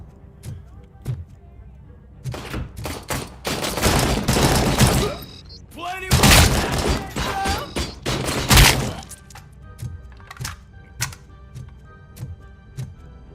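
Gunshots in the video game RoboCop: Rogue City, with scattered single shots giving way to dense bursts of heavy fire and impacts in the middle, then sparse shots again, with voices briefly present.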